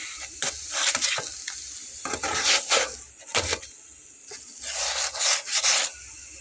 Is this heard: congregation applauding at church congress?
no